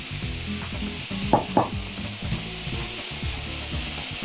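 Seafood seasoned with salt and black pepper stir-frying in a frying pan, a continuous close sizzle with repeated scraping and clanking of a utensil against the pan, no talking.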